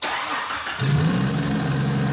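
A turbocharged Jeep Wrangler engine fires up through a custom upright exhaust downpipe, a loud, steady, gruff drone that jumps in partway and holds close and continuous to the end.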